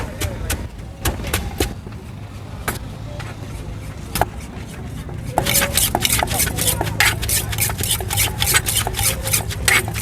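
Rhythmic pounding of a spicy Thai salad loaded with chilies and lime in a mortar, repeated sharp knocks that grow faster and denser midway, with voices talking underneath.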